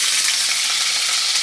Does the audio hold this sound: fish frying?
yes